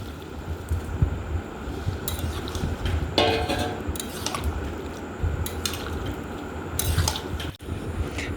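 Boiled peas being stirred into a fried spice mix in a pan for mata ghugni, giving soft repeated scraping and wet shuffling sounds in a steady, moderately loud stream.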